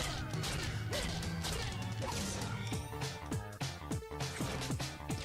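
Objects get smashed in the TMNT Turtles in Time Re-Shelled video game, with a run of sharp crashes and whacks landing one after another over constant loud game music and effects.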